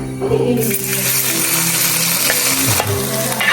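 Shallots and curry leaves crackle and sizzle in hot coconut oil for a Knanaya chicken curry, a loud steady fry close by with scattered sharp pops and a few scraping stirs.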